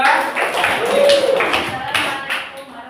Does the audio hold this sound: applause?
yes